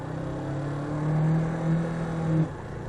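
A car engine stuck revving at 4,500 RPM holds a steady droning tone that swells slightly in the middle and then cuts off sharply, heard alone without speech.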